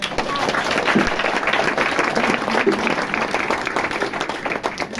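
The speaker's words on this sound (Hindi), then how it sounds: "बहुत जोरदार ताली बजाएं।" A spiritual gathering's audience breaks into loud, vigorous clapping that holds steady for several seconds, a thick wash of many hands with faint voices mixed underneath.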